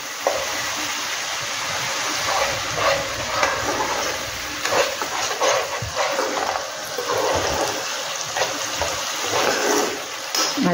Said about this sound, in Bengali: আদা দিয়েছি, আবারও কিছুটা সময় 2 মিনিট একটু ফ্রাই করে নিই।